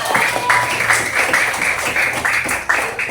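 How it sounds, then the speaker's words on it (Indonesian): Classroom applause for students during a physical education ball-throwing lesson: a loud, continuous patter of many small hands clapping fills the whole span, with no one talking. "tepuk tangan"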